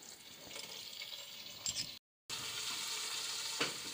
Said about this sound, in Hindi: इस गरम होते हुए ऑयल और मक्खन में मैं डाल दूंगी ये 1 टीस्पून सफ़ेद ज़ीरा